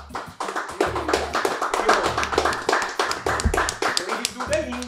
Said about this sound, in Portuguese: Queria pedir uma salva de palmas pra esse monstro aí.